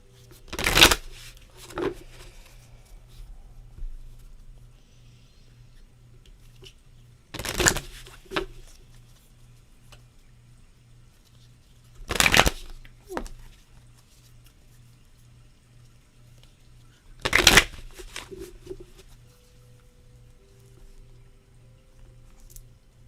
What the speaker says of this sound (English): I'm going to shuffle these cards however long they tell me to